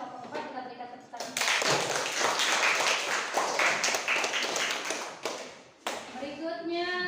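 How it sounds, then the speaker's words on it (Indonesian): A classroom of students claps for a group after a chemistry presentation, a burst of lively applause with talking before and after it. "Kelompok 4 kita berikan tepuk tangan."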